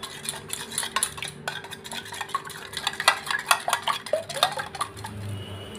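Beaten egg mixture with black salt whisked in a metal bowl, giving rapid rhythmic clinking and scraping strokes, close and steady, with no voices.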